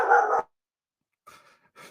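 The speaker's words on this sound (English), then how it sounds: "while Kevin's dog bark" A dog barks once loudly nearby, then after a pause gives a couple of fainter barks or yelps, with no talking.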